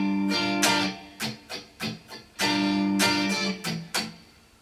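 A guitar plays a riff slowly, up close: a ringing chord, then choppy muted strums in a syncopated down-up pattern, then the chord again.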